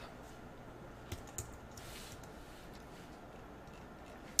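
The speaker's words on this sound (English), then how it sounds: "I'll just type a hint" Faint, sparse keystrokes tap on a computer keyboard: a few soft, scattered clicks over a quiet room hum, ending with one sharper key press.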